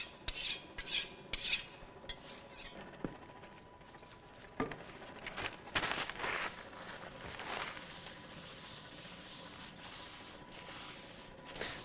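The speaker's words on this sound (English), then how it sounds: "Actually, you can scrape it directly into the trash." Cured resin being scraped off a Formlabs SLA 3D printer build plate into a trash bin, a series of rough rasping scrapes and patters in irregular bursts, moderately quiet and close with no talking.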